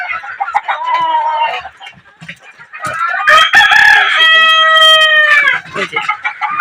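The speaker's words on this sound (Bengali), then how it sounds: "আমার একটা মুরগির ডিম পাড়তেছে" Chickens cluck and a rooster crows loudly close by, with sustained harmonic calls layered over repeated clucking while a hen lays an egg in a crowded coop.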